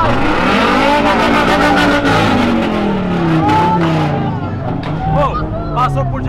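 A Subaru car engine revs loudly as it leaves a charity car event, its drone rising and falling under close, continuous chatter from several people.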